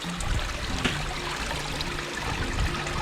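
Pump-fed garden pond waterfall splashing and trickling steadily into the pond, a continuous close wash of falling water with no speech.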